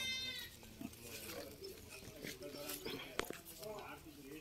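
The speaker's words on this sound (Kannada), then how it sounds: "ಇಷ್ಟು ಕುರಿಗೂ ಇದೊಂದು ಟಗರಿದೆ." Bandur sheep bleating in an open grazing field, several animals calling in short overlapping cries, fairly close, with someone talking alongside.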